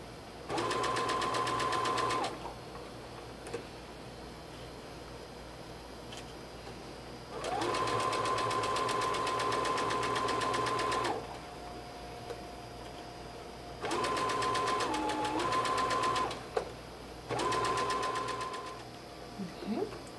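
Sewing machine stitching a seam on a classic jumper, running in four separate bursts of steady, rapid needle chatter, each a few seconds long, with quiet pauses between them.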